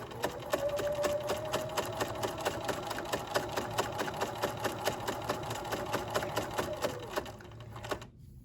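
A sewing machine topstitches fabric with black thread in a fast, even mechanical rhythm for about seven seconds before slowing and stopping with a final clunk.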